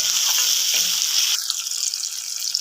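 Spice paste with grated ginger, salt and sugar fries in a pan with a bright, steady sizzle, briefly stirred, the hiss softening and crackling near the end.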